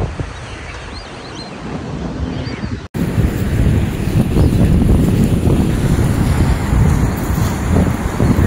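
Forceful rushing water roars loudly and continuously, a dense wash of turbulent flow with wind buffeting the microphone, no voices over it.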